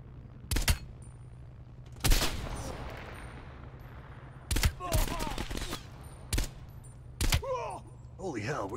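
Gunfire in the video game Call of Duty: Black Ops Cold War, with sharp shots and short bursts cracking out at irregular intervals over a steady low hum and game sound.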